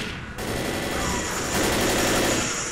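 Rapid gunfire in Left 4 Dead, a dense fusillade of close shots running continuously over game noise.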